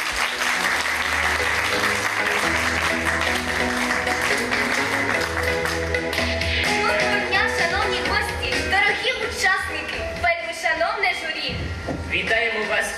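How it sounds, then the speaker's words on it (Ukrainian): An audience in a village hall at a drama-troupe theatre festival applauds the hosts as they come on stage, steady clapping layered over loud music with voices mixed in. "Зустрічайте оплесками!"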